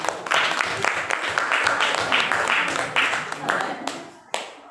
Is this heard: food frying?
no